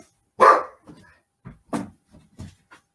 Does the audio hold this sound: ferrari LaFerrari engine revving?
no